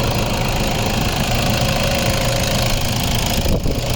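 A 2012 Toyota Innova 2.5 G runs at a steady idle, its diesel clatter dense and continuous close up, with a rough, knocking texture and no voices.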